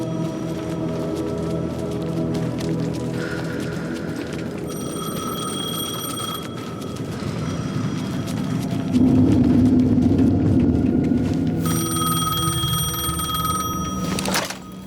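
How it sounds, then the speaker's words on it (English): A payphone rings in the video game Alan Wake 2, its repeated electronic bell bursts cutting through a low droning ambient score. "The payphone was ringing."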